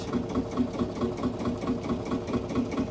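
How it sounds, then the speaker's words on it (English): An old cartridge-started tractor engine idles at a machinery field day in Dowerin, giving a steady, even chugging pulse with regular firing beats throughout, close and moderately loud with no talk. "they would only start these tractors once a day, and they sit here idling for the rest of the day"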